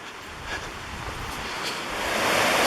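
Steady rushing roar of the waterfall at Sliding Rock near Asheville, North Carolina, a continuous broadband wash of falling water that swells slightly louder toward the end, with no voices.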